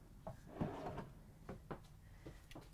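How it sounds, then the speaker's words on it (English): Drawers in a 2022 Newmar Bay Star 3609 RV glide shut with a soft-close action, giving a few muffled, cushioned thumps and light sliding rustles at close range in a quiet interior. "all of your drawers are nice and deep. And then soft close."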